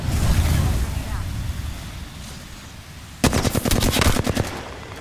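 Rapid automatic gunfire erupts in Apex Legends, a loud close burst of evenly spaced shots lasting over a second after a stretch of softer rumbling game noise, with voices also present.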